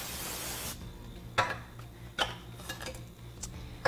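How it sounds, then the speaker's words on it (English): A burst of hissing cooking-oil spray onto a pan at the start, followed by a few light clinks and taps of metal against the pan. "So once again, I will lightly spray that."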